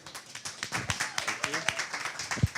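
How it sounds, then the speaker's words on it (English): Scattered applause from a modest audience at a tech leadership talk, individual claps audible as separate sharp hits over about two and a half seconds, fairly quiet with a few voices mixed in. "Let's give Christian a round of applause."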